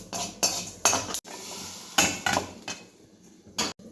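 Spoon stirring and scraping melon seeds as they dry-roast in a pan, with a series of sharp metallic clinks and scrapes coming in uneven bursts, close and fairly loud.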